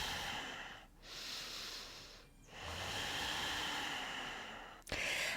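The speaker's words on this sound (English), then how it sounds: "Inhaling and exhaling." Slow, deliberate breaths in and out during a yoga session, soft and close, with two brief pauses between the airy exhales and a short sharp sound at the end.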